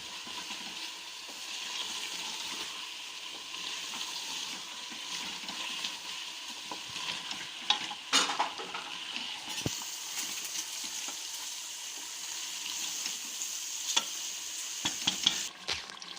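Achar gosht, a spicy mutton dish, is stirred and mixed in a pot. A spoon scrapes and turns the meat over a constant sizzle, with occasional sharper knocks against the pot, and no one talks.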